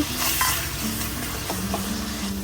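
Sliced onion fries in a pan with cardamom and cloves for paneer butter masala, a close, steady sizzle with stirring scrapes and clatter, heard alone.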